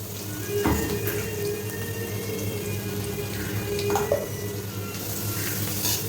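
Ground paste of green chili, ginger and coriander frying in oil with mustard seeds, dal and dried red chili, a soft steady sizzle with occasional stirring clicks and a faint background hum.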